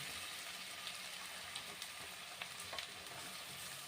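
Beetroot frying with softened onions in a pan, a faint, steady sizzle with small crackles and occasional stirring clicks throughout.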